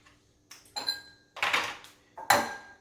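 Eggs cracked against a bowl while making scrambled eggs: several sharp taps and clinks with small ringing overtones, spaced apart, close and clear with no talking.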